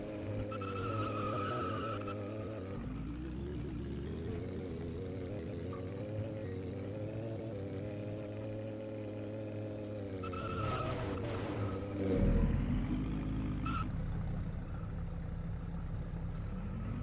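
A Lamborghini skids and gets wrecked in the Roblox video game, its engine droning steadily for the whole stretch with tire screech, and a louder rough burst partway through. No one speaks.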